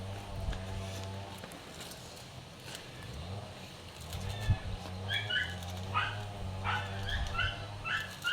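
Puppies bark and whimper over a steady low hum, with scattered yips and high whines in short overlapping bursts, close and fairly clear.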